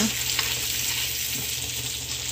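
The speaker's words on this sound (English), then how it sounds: "this is the onion and pepper in some olive oil and some butter" Onion and bell pepper sizzling in olive oil and butter in a pan, a steady dense hiss of frying close by, with a low hum underneath and no talking.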